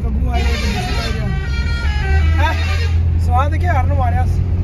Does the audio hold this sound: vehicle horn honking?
yes